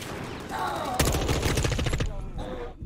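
Rapid automatic gunfire in a tactical shooter video game, Ready or Not or COD2 beta, rattles in a dense one-second burst, with quieter game sounds before and after.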